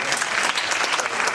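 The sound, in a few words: audience clapping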